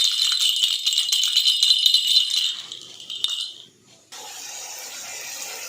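A baby's rattle toy is shaken rapidly, giving a bright continuous jingling rattle for about three seconds before it fades and stops, followed by a steady quiet hiss.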